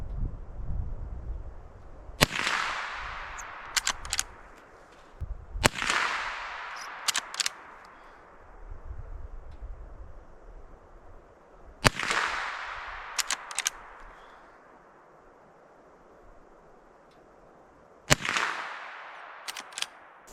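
Gunshots at target shooting outdoors during a solo camping trip: four sharp reports spaced several seconds apart, each followed by a long fading echo and a few faint clicks.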